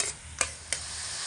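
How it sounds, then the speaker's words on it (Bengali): Spice masala being stirred and fried in a pan over medium heat, a steady soft sizzle broken by two sharp scrapes of a spoon against the pan. "এবার মিডিয়াম আঁচে রেখে অনবরত নাড়াচাড়া করে খুব ভালো করে মশলাটা কষিয়ে"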